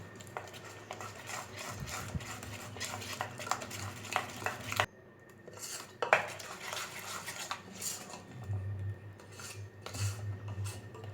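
A spoon stirs thick dhokla batter around a bowl, giving steady scraping and clinking of metal against the bowl for the whole stretch, with a brief pause in the middle and no talking.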